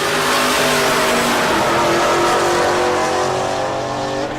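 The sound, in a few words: drag racing cars launching at Tulsa Raceway Park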